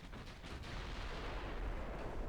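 Naval gunfire in the warship game Ultimate Admiral: Dreadnoughts comes as a low, rumbling wash of distant artillery booms, faint and continuous, with no voices.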